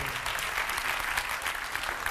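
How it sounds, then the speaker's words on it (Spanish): A room full of people clapping steadily, a dense, even patter of applause throughout. "Ahora vais a aplaudir."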